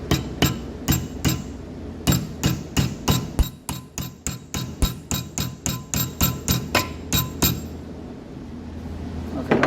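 Weld samples under tension loading in a press give off a long series of sharp metallic clanks and ticks, a steady rhythm of loud, close impacts with no talking.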